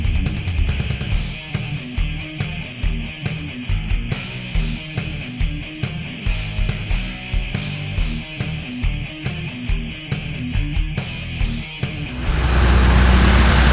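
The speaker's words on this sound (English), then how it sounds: "Now this is how the car is supposed to sound." A tuned car engine, fitted with an SCT tuner and a JLT install, idles with a steady rumble, followed by a louder, sustained engine roar near the end.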